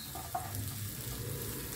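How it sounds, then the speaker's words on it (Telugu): Green chillies fry in hot oil with cumin, mustard seeds and onions, giving a steady, close sizzle with a faint crackle and no voices. "సో ఇప్పుడు ఈ సమయంలో పచ్చిమిరపకాయలు వేసుకుంటాం."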